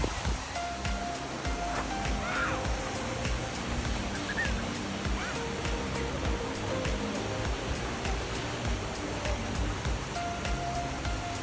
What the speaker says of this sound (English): this is just one of the great falls that you'll find in Iceland